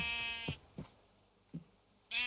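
Sheep in the Minecraft video game bleat in short, bright, buzzy cries, one at the start and another at the end, with a few soft thuds and quiet gaps between them.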